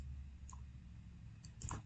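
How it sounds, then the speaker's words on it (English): A computer mouse clicking during label template work on a website, a single click followed by a quick pair of clicks, sharp and close against a faint background hum. "if I would quit clicking so fast"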